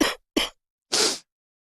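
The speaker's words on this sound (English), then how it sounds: "As I start coughing." Three short, sharp coughs from one person: two quick bursts close together, then a longer, breathier third after a brief pause, close and alone.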